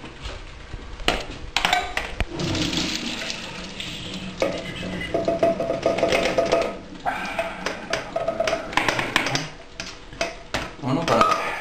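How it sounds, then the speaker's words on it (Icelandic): Cooked carbonara pasta and its water are poured into a sieve in the kitchen sink, a steady splashing gush with clattering of the pot and metal sieve, and a voice talking over it. "Þá bara sigtum við það."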